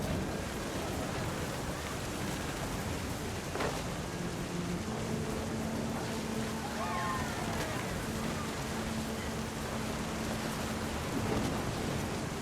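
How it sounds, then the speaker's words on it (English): Steady rain pours continuously over a dull low rumble of distant thunder during a storm in the video game What Remains of Edith Finch, with faint tonal music notes drifting beneath. "The thunder sounded much too close and full of angry power."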